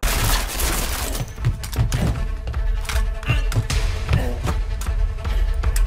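Gunfire in an Alice in Borderland fight scene: rapid, loud volleys of shots mixed with heavy thuds and impacts, dense and continuous throughout.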